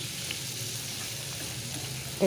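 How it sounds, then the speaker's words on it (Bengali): Tomatoes frying with cumin, chili powder, salt and a splash of water in a pan for mushroom curry, a soft continuous sizzle with faint stirring, quiet and close, ending in a brief clink. "খুব সুন্দর করে ভেজে নেব, টমেটোগুলো যেন গলে যায়, এভাবে ভেজে নেব।"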